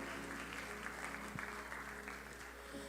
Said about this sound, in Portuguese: E você pode aplaudir.